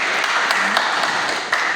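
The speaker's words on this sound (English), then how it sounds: "You just have to applaud him for that" Crowd applause at a gathering, a dense, steady patter of many hands clapping throughout, moderately loud and continuous with no pauses.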